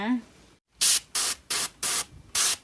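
An airbrush purges air before gloss coating a Louis Vuitton bag, letting out five short, sharp hissing bursts in an even rhythm, loud and close, after a brief vocal sound at the start.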